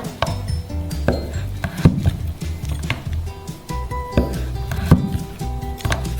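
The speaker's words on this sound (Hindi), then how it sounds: "और इसे पहले स्ट्रिप्स में काटते हैं" A knife cuts cheddar cheese into strips on a board, producing a series of distinct knocks and taps at irregular intervals, close and moderately loud, with no talking.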